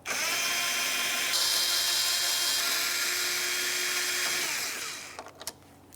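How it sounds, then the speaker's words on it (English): A power drill with a T30 Torx bit backs out bumper cover screws on a 2011-2018 Volkswagen Jetta: a loud, close, steady whine that shifts pitch midway, then winds down, followed by a few faint clicks. "To remove these, you're going to use a T30 Torx bit."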